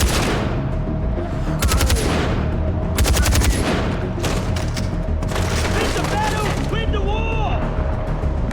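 Rifle gunfire in Far Cry 4, rapid loud bursts and single shots crackling over continuous game noise, with a voice talking throughout.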